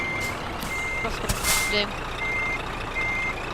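Scania truck in Euro Truck Simulator 2 sounding its reversing alarm: steady repeated high beeps under engine rumble, with a hiss of air brakes midway and someone speaking briefly.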